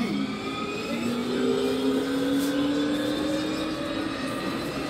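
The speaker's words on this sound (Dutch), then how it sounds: "Dat is een metro" An Amsterdam metro train on line M53 rolls past with a rising, whining electric motor tone and steady rumble, continuous and fairly close, with no talking.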